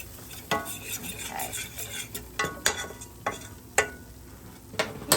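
A fork mashes butter down in a pan while making a roux for cheesy potatoes: repeated sharp metallic taps and scrapes against the pan over a soft background hiss, close by, with no voices.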